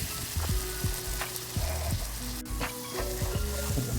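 Flour cooking with browned sausage and sage into a light roux for sausage gravy, giving a steady close sizzle with a few spoon scrapes and soft clicks against the pan, no voices.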